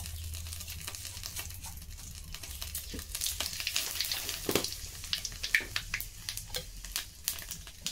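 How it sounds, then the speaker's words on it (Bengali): Cumin seeds and bay leaves sizzle in hot oil for a Bengali prawn malaikari, a close and steady frying hiss with crackling pops that grows busier partway through. "তেলটা গরম হয়ে গেছে, নুনের ভিতরে কয়েকটা জিরে আর তেজপাতা দিয়ে দেবো"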